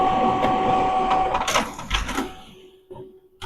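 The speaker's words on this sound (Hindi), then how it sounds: "मैं आपको सबसे पहले प्रिंट लेकर दिखाता हूँ कि लाइट प्रिंटिंग किस टाइप से आ रहा है" An HP LaserJet M233dw printer with a light-printing fault runs a page, giving a steady mechanical whir with a high tone, then clicks and paper movement as it winds down.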